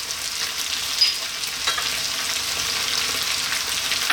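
Garlic ginger paste and fresh chilies hit hot oil in a pan alongside vegetables for a vegan biryani, giving a steady, close, dense sizzle with faint stirring scrapes and no talking.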